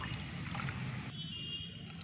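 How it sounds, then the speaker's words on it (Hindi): Plain water is poured into a strained homemade plant fertilizer mixture, giving a steady close trickle that thins out toward the end. "इसमें सादा पानी मिलाना है।"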